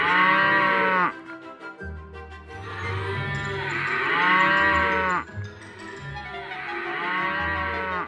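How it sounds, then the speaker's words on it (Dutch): Cows moo loudly and close by in a Playmobil toy wedding scene: three long, drawn-out moos separated by short pauses, with no talking over them. "Wat doen de koeien daar?"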